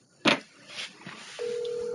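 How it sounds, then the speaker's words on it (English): Telephone dialing tones as a call is placed: a few short electronic keypad beeps followed by a steady sustained tone, close and clear with no talk. "Let's try to dial him up."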